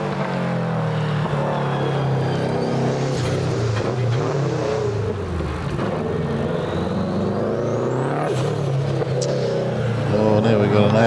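A hillclimb race car at a hillclimb event pulls away up the hill, its engine note rising and whirring steadily under constant crowd and commentary noise, a sustained loud rumble throughout.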